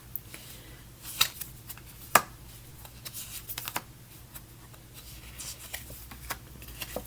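Tarot cards shuffled by hand, a soft run of papery riffles and flutters with a few sharper slaps of the deck, fairly close and quiet with no talking.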